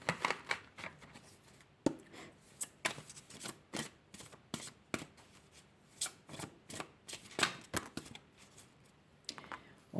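Oracle cards are shuffled by hand in quick, irregular riffling bursts, close and crisp, with short pauses between flurries and no talking.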